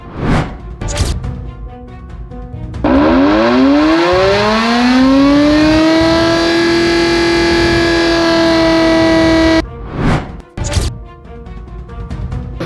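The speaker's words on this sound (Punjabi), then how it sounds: "ਸਾਡੇ ਕੋਲ ਇੱਥੇ ਜਿਹੜਾ ਸਾਇਰਨ ਹੈ ਨਾ" A loud civil defense siren, under test in Gurdaspur, winds up from a low growl to a steady, piercing wail and holds it for several seconds, with sharp knocks and bangs before and after.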